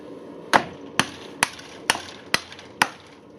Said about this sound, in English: take a breath, and then hammer it back in